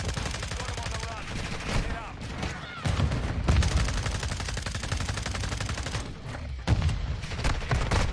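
Rapid automatic gunfire in the video game Modern Warfare 2022 rattles loudly and almost continuously in dense bursts, with brief gaps and sharp impacts, close and full.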